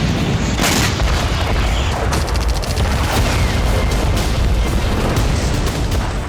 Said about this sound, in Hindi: गाजा के आसमान पर इजरायली फाइटर जेट गरजते रहे और लगातार धमाके होते रहे।